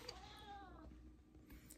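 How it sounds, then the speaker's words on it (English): A female cat gives one drawn-out, wavering meow, close by but fairly soft, with no other sounds around it. "she's going to keep meowing."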